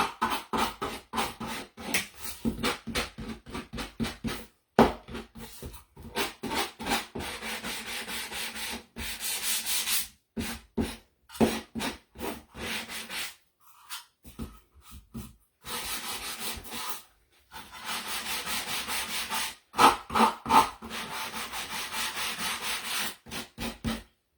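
Sandpaper rubs back and forth against wooden edges by hand in quick rhythmic strokes, broken by short pauses, close and fairly loud.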